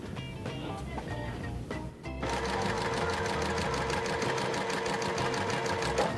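A sewing machine stitches jelly roll quilt strips. After a couple of brief starts, it runs in a steady rapid rhythm, close and clear, with no talking over it.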